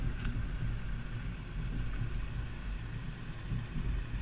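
A 2018 Mitsubishi Outlander carrying a Yakima FullBack 2 bike rack rolls over alternating speed bumps, giving a steady low rumble of road and cabin noise with faint soft bumps, and no voices.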